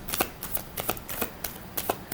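Tarot cards are shuffled by hand, giving quiet, rapid riffling bursts in a steady rhythm, close and soft with no talking.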